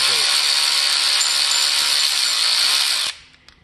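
A power tool whirs steadily and loudly as it backs a bolt out of a Ford 4.6 4V engine from a 2003 SVT Cobra, then cuts off sharply, leaving a few faint clicks.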